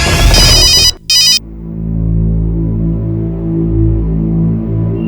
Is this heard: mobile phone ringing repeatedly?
yes